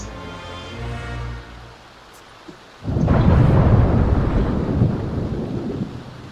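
A thunderstorm in The Sims 4 game world: a low rumble fades, then a sharp thunder crack opens into a loud, sustained roll of thunder over steady rain.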